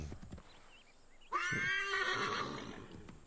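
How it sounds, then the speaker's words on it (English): A horse in the video game Assassin's Creed 3 gives a loud, shrill neigh that rises and wavers for about a second, then trails into a shorter whinny, with faint hoof clip-clop and game ambience underneath. "the horse is bitching"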